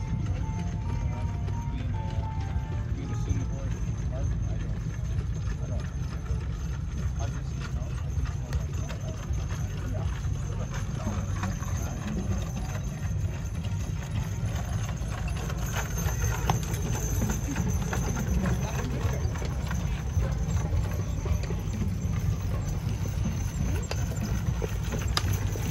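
Haflinger horses pulling carts trot on the rail in a ladies' cart class at a fair driving competition, their steady hoofbeats continuous under a loud, constant arena hum, with talk in the background.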